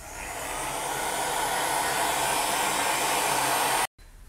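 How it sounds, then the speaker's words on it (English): A heat gun on its hottest setting and lowest airflow blows steadily while curing a polymer clay book charm, a loud, constant rushing whir that swells slightly and then cuts off abruptly near the end. "So you'll set your heat gun on your hottest setting and your lowest wind speed and just cure it."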